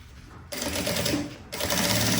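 Sewing machine stitching the lining of a fabric bag in two short bursts of fast rhythmic whirring, near and clear, separated by a brief pause.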